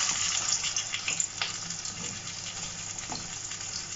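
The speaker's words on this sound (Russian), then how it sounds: "Масло разогрелось на сковородке, прям накалилось. И теперь выкладываю сюда нашего зайчика." Pieces of hare sizzle loudly in very hot oil in a frying pan, a dense, continuous crackle close up with a few sharper pops and spits.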